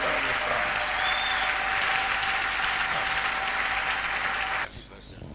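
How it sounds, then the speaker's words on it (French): A church congregation claps steadily and loudly in a dense, sustained wash of applause that tapers off near the end, with a voice speaking over it. "Tumpikie Yesu makofi."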